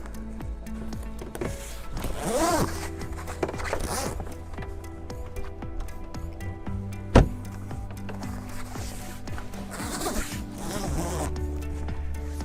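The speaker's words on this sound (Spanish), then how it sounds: "Primero enganchamos la cremallera." Nylon zipper on a sailboat's boom cover being pulled and fastened, with short ripping runs and a sharp click partway through, heard close over a steady low hum.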